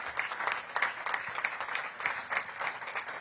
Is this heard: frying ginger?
no